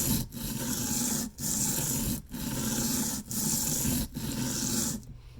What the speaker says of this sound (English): I know it sounds super gritty, but that's because this is literally a 120 grit